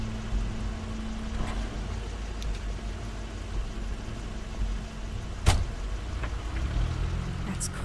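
A car in The Wolf Among Us video game runs with a steady low engine rumble, and a brief sharp knock near the end might be a door.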